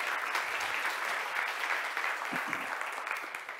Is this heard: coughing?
no